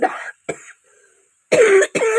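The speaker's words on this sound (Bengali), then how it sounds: "ভীষণ কাশি হয়েছে" A person with a bad cough coughs four times in quick succession, close and fairly loud, with short pauses between the harsh bursts, in a home kitchen while cooking.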